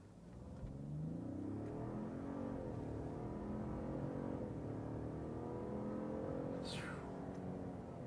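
A 2021 Ford F-150 PowerBoost pickup truck engine revs and accelerates steadily, a continuous rising drone with a brief high whine near the end.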